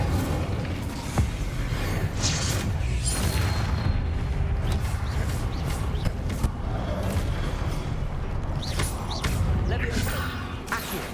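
Incendio fire spells cast repeatedly during combat in Hogwarts Legacy, with bursts and booms recurring throughout amid dense, continuous battle noise at steady loudness.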